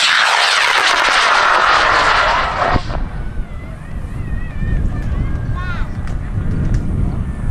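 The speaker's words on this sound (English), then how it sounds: "We got continuity, and we are launching you in 5, 4, 3, 2," A high-power hobby rocket roars off the launch pad at an Argonia, Kansas rocketry festival, a loud broad rushing blast for several seconds that cuts off abruptly and leaves outdoor wind noise and distant crowd murmur.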